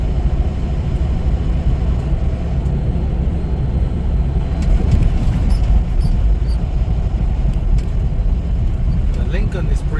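A big truck named Red Phoenix drives on the road, its engine giving a steady, close, continuous low rumble with road noise throughout, while a voice talks over it.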